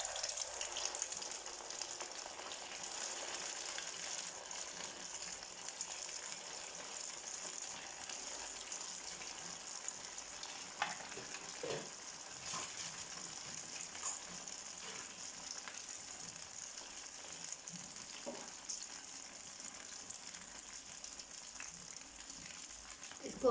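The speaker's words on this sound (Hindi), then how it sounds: "कढ़ाई में तेल गर्म है, अब आप इसमें हल्की आंच कर लें और एक एक करके शामिल करते जाएं।" Potato bread rolls frying in hot oil in a kadhai over low heat, a steady soft sizzle and crackle that continues throughout with a few brief pops.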